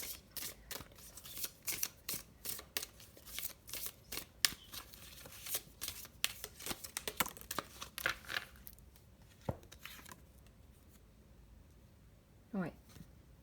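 Tarot cards being shuffled and drawn, a rapid run of close papery riffles and flicks followed by a few isolated card snaps and a slide, with quiet room tone between.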